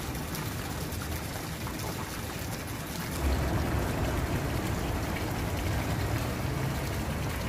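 Water flowing and splashing steadily in a Roman fountain, a dense continuous hiss like pouring rain that grows slightly louder and fuller partway through.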